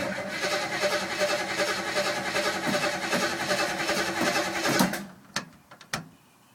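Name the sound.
car engine cranking and starting after a month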